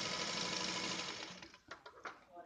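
A domestic sewing machine runs a short burst of stitches through fabric for a bow tie, a steady close whir that stops and gives way to a few quick clicks and handling taps.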